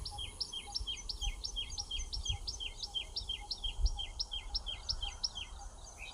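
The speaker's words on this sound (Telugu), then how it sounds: "పిచ్చుకల శబ్దాలు వినిపిస్తున్నాయి" Rapid, repeated high chirps from sparrows in an Indian village run steadily throughout, with a low rumbling background underneath.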